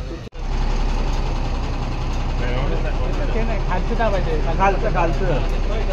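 A fire tender truck's engine idles with a constant low rumble that stays close and loud, under several voices talking and calling out over it.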